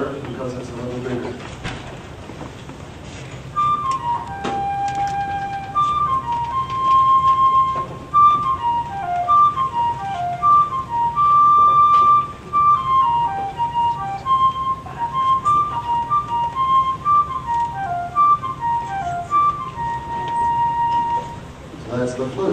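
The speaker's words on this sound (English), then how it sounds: "That's the flute." A flute plays a short melodic phrase of clear, pure tones in a classroom-style demonstration, with notes stepping up and down in a moderately paced line over faint room noise.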